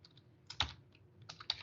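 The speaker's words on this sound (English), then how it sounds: "I could start typing someone's name." A name is typed on a computer keyboard in a few quiet, close clusters of soft key clicks separated by brief pauses.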